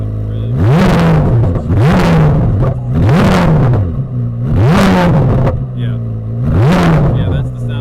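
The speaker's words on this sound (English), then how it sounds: "I'm definitely gonna give it a couple revs." A 2023 Chevrolet Corvette C8 Z06 with the 3LZ package, stationary, blipped five times in a steady rhythm. Each loud, close rev surges up and drops back to idle, and the engine burbles between the blips.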